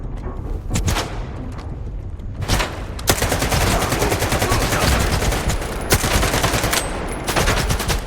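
Heavy sustained automatic gunfire rattles loudly in the video game STALKER 2, rapid overlapping shots in long continuous bursts with a few sharper blasts standing out.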